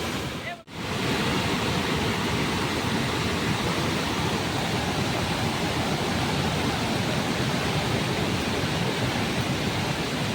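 Mountain waterfall in Assam after a cyclone, its water pouring down from high on the slope: a loud, unbroken roar of rushing water, close and dense, steady after a brief dip at the start.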